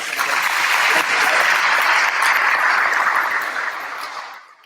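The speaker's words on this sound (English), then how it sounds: "hey, give him a round of applause for that" Audience applause at a diabetes research spotlight event, loud and steady clapping from a full room that tapers off and fades out at the end.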